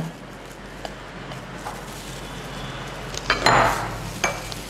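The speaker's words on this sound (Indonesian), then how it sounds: "Pertama kita masukkan tela yang sudah kita kukus ya Bu, kemudian kita haluskan." Steamed sweet potato mashed in a bowl for Korean sweet potato bread dough: soft, faint scraping and tapping, then a short louder burst of utensil clatter near the end, with no talking.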